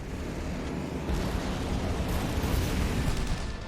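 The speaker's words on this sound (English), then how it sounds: "This facility will not survive the explosion." A facility blowing up in the video game The Saboteur, a dense continuous roaring blast of rumble and debris that swells louder midway and holds, with no speech.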